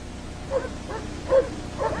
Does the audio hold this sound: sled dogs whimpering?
yes